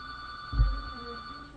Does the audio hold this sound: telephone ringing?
yes